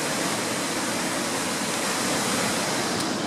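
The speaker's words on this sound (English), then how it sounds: "And there's the fall, the waterfall." A waterfall in Banff National Park, Canada, roars as a constant, dense, full-bodied rush of falling water that stays steady and loud throughout.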